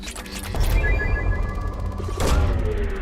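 A probe launches in the video game Mass Effect, a loud, heavy whooshing blast with rumbling booms and a second surge partway through, filling the short clip with dense, close game effects.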